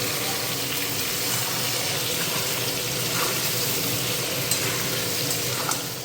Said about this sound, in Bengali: কচুর মধ্যে হলুদ আর লবণ দিয়ে দিলাম এখন কচুটাকে একটু ভালো করে কষিয়ে নেব